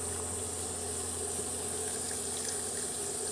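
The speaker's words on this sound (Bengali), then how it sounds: "এবার আমি জল দিয়ে দিচ্ছি।" Water pours steadily into a pan of chicken curry, a continuous close hiss and rush with no talk over it.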